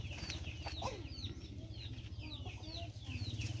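A decoy rooster clucks in a series of short, fairly quiet calls over a constant low background hum, with no talking.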